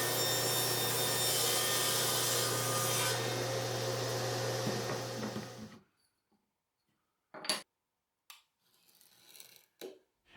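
A hand saw cuts a wooden wedge for a clamp on a plywood jig in a workshop, with steady rasping strokes for about five seconds, followed by silence and a few brief knocks and handling sounds.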